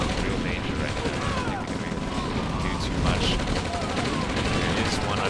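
Artillery and medium tanks firing in the OpenRA real-time strategy game, a dense rapid crackle of gunfire and shots throughout, loud and unbroken.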